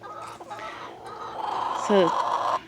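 Chickens cluck close by, a busy run of soft clucks building to a louder squawk near the end.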